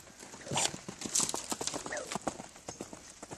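Horse hooves clip-clopping during a riding lesson, a quick uneven series of close, crisp hoof strikes over a few seconds.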